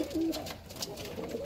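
Jacobin pigeons coo softly in an open backyard loft, a brief low burble with a couple of murmured calls, heard close and fairly quiet.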